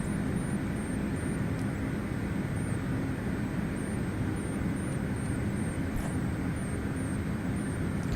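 Jet engines of a CRJ550 airliner in Microsoft Flight Simulator 2020 drone in a steady, loud, unbroken roar with a thin high whine riding on top, alone without talk.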